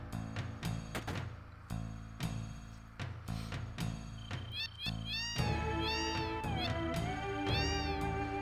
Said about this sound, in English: If you walk up to any of these cats and just press the direction button, they'll just meow over and over again.